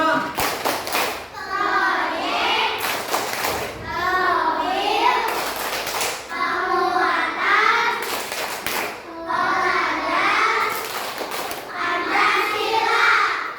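Schoolchildren in an Indonesian elementary classroom perform the P5 clapping chant, repeated rhythmic bursts of group claps and taps in several rounds, mixed with loud children's voices chanting together.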